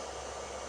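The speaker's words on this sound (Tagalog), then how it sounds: "Hindi nagbabago yung speed ng electric fan." An electric fan running on inverter power from a 12-volt battery, a steady, even broadband whoosh with no change in speed, close and moderately quiet throughout.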